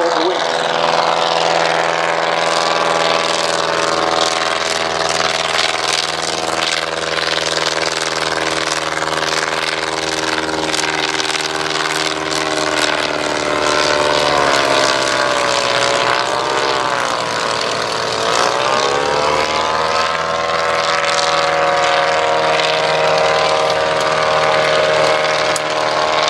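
Edwardian box kite biplane flying past at an air display, its engine and propeller droning steadily and loudly throughout, the pitch bending briefly as it heads toward and passes the listener, with a voice talking over it.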